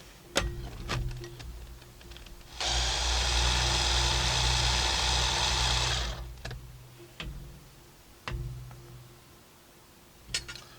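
A food processor whirs through garlic scape pesto with olive oil and parmesan in one loud, roughly three-and-a-half-second burst, framed by quiet kitchen clicks and taps before and after.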